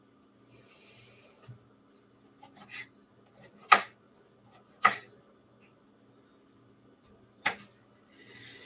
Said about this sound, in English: I love the sound of chopping veggies on a cutting board.